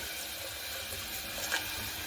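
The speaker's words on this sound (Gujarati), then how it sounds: "હવે તેમાં આપણે પાણી એડ કરી દઈશું" Four measured glasses of water run steadily in a soft continuous stream into a pot for spinach khichdi, quiet and close with no talking.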